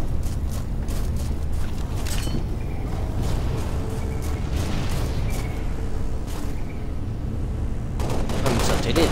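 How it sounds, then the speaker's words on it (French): Halo Reach combat as grenades are thrown at Covenant enemies: dense, continuous gunfire with booming grenade explosions at close range, loud throughout, with a voice talking over the action. "On lance des grenades dessus."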